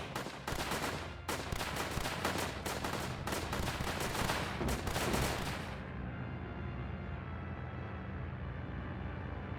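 Dense bursts of rapid gunfire rattle continuously for about six seconds in the Northend Tower Defense video game, a World War II zombie battle, then give way to a lower lingering rumble.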